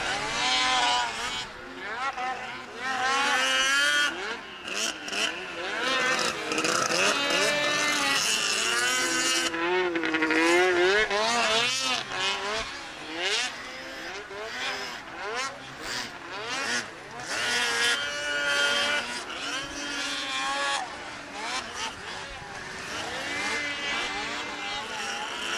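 Race cars roar around a track during a live club race event at ERX, with engines rising and falling continuously over the full stretch while an announcer talks over the racing.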